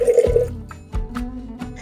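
Half a liter of water is poured from a container onto pistachios in a kitchen, giving a close, gurgling splash that pauses briefly and resumes in uneven bursts, with no talk.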